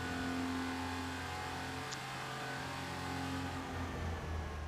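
A Porsche 911 Carrera RS 2.7 racing in the Need for Speed Porsche Unleashed game, its engine holding a steady, loud, droning note with sustained tonal whine throughout and no talking.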